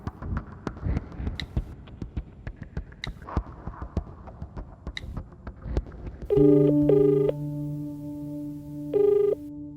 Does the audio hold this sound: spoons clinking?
no